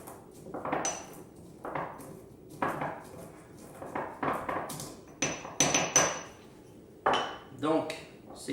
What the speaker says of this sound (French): Donc on va grossièrement broyer ces épices-là